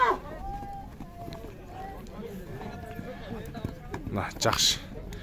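Horse hooves clip-clop on the ground at a brisk pace at a horse market in Sokuluk, Chüy, with people talking over them throughout.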